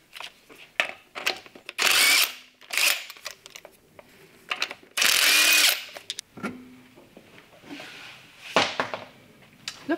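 Short loud bursts of an impact wrench whir up and stop as a wheel comes off a Talbot Sunbeam Lotus, repeated several times between clanks and rattling of metal parts, close by.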